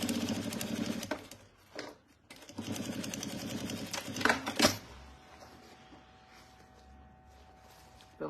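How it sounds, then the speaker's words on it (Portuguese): A sewing machine stitches a finishing seam on a small fabric table basket, running in two close, steady bursts of rapid mechanical chatter separated by brief pauses, then falling to a quieter tail with a faint hum. "vou pra máquina e faço de novo mais uma costurinha"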